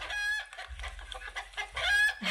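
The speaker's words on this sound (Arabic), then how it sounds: "صوت الدجاجة" A hen clucks and squawks in a few loud, close bursts with broken, uneven rhythm, alone and without speech.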